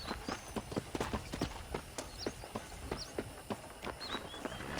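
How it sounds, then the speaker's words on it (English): Steady clip-clop of horse hooves walking at an even pace, close by, with faint birdsong in the background, from the video game Red Dead Redemption on a ranch. "I picked out a fine horse for you."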